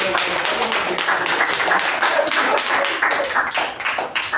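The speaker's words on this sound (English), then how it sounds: "Let's give him a round of applause." An audience at a Toastmasters club meeting gives a round of applause: dense, steady clapping from many hands that continues for several seconds at an even loudness.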